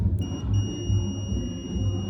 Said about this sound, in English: it makes that beep sound.